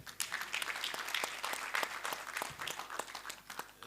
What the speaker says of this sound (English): Give the Ndiwa a more than hearty clap.